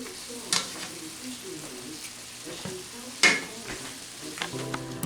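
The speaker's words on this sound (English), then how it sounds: "Take your hamburger and mix it all up with your onions as you're frying it." Soft sizzle of hamburger meat and onions frying, broken by occasional clattering scrapes from stirring, with faint tonal sounds in the background.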